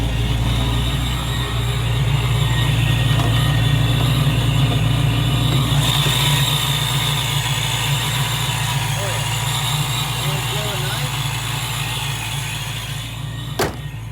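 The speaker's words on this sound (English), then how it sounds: "What I'm doing right now is just letting the car sit here and idle as long as I can" Supercharged Foxbody car engine idles steadily with a low, even rumble and a faint whine above it, heard close by and continuously, with a brief click near the end.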